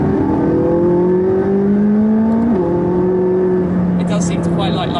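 A McLaren 675LT rated at 675 PS pulls hard on a public road, its engine note climbing steadily, dipping briefly at a gear change, then rising again, loud and close for the whole stretch.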